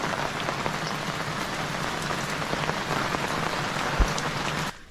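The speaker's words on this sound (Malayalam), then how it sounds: "മഴ കൂടുവാണേ" Heavy rain drums on a surface nearby, dense and steady with scattered louder drops, then cuts off abruptly at the very end.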